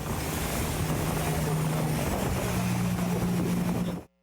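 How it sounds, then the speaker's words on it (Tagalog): An Australian MH-60 helicopter, airlifting Australian Defence Force personnel from a Philippine Navy ship, gives a loud, steady rotor and engine roar that runs unbroken and then cuts off abruptly. "pag-airlift ng Australian Defence Force personnel mula sa barko ng Pilipinas pasakay sa Australian MH-60 helicopter"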